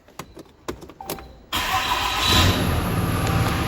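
A high-mileage hotshot truck cranks over after transmission repair: a few sharp starter clicks and turns, then the engine catches abruptly and settles into a loud, steady idle.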